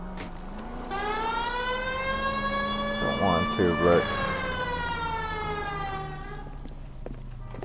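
A police car siren in the video game L.A. Noire wails in long rising and falling sweeps, loud and steady, while people talk over it.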